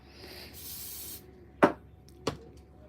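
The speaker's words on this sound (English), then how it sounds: "So a little bit of spray" A soft hiss at first, then two short, sharp aerosol spray bursts close by on a model tree, separated by a brief pause.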